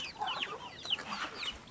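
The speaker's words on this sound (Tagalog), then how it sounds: "Yan guys, mga manok natin." Backyard chickens in a rural Bicol farmyard clucking close by, a steady chatter of short overlapping clucks from several birds.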